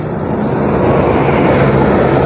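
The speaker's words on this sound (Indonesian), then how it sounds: "Melintas ada bis" A bus roars past very close and loud at Dukuh Salam bus terminal in Slawi, a dense engine rumble filling the whole moment without pause.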